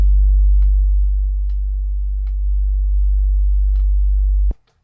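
A simple pure sine tone run through Ableton's Glue Compressor with soft clipping, a steady low hum with faint added harmonics and small periodic ticks, held for several seconds before stopping abruptly.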